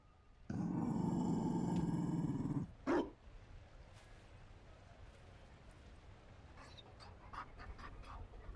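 A Mabari war dog in Dragon Age: Inquisition, a loud close rumbling growl and pant for about two seconds, then a short bark-like burst and quieter scuffling noises.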